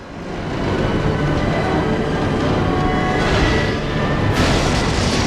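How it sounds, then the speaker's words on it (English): Steady loud rumble and rattle of an Art Deco train running in the Resident Evil 0 video game, a dense continuous roar with a brighter hiss surging near the end, no talk. "Tell me we get off this train."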